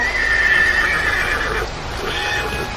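A horse neighs loudly and close, a sustained whinny over about a second and a half that fades, then a shorter second whinny follows, set against a steady background hiss with no speech.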